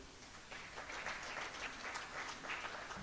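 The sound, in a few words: audience applause for panelists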